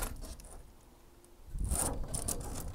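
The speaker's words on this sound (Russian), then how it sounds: "Сейчас петли откручиваются." Faint ratcheting and creaking as hinges are unscrewed on a small arched polycarbonate greenhouse: quiet scraping at first, then a louder burst of clicking and rubbing near the end.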